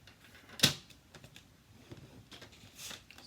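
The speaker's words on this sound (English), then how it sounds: "So there again, use the trimmer." A paper trimmer blade scores a 4x4 piece of cherry cobbler cardstock diagonally, giving one sharp, close swipe followed by faint scraping and light paper handling.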